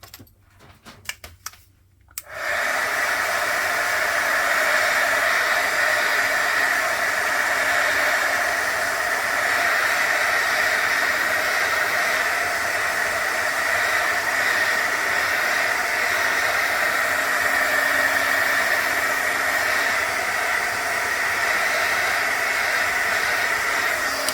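A hair dryer drying a Penny Black stamp, switched on after a few seconds of small handling clicks, then a loud, steady whooshing blow and motor whine that runs unbroken to the end with no talk.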